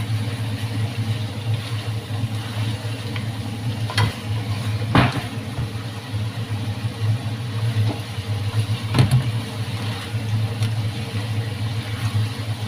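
Chicken stirred and sizzling in a pan with oil, onion, ginger, garlic and tomato, a steady close frying hiss under a low hum, with a few brief scraping clacks.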